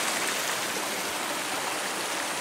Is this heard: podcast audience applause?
no